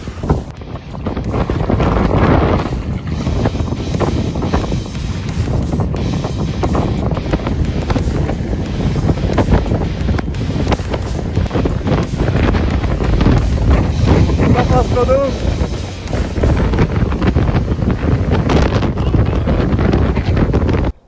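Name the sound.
strong storm wind blowing at lake Balaton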